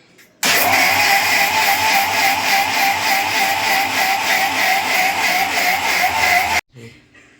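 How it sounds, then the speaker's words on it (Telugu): A motor whirs steadily at high speed for about six seconds, starting and stopping abruptly, loud and close, like a kitchen grinder. "మిక్సీ పడుతుంటే"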